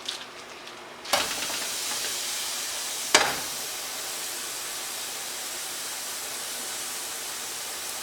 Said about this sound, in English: All we're gonna do is let the fish cook 60 seconds on each side